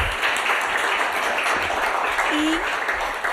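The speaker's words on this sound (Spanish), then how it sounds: "vamos a darle un aplauso también a Alfonso" An audience at a project-mentoring event in Mayo applauds for a participant, a moderate, continuous patter of clapping with some voices mixed in.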